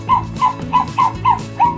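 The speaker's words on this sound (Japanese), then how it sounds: "おー、すっげー吠えた。" A Hello! Zoomer robot dog toy gives six quick electronic barks in an even rhythm, loud and close.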